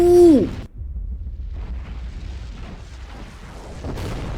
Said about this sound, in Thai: ปล่อยระเบิดมาเลยเหรอ